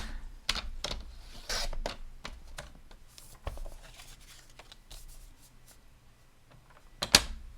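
Paper scrap for a handmade card being trimmed, with a few sharp snips and slicing strokes scattered through quiet pauses, close and crisp, one louder cut near the end.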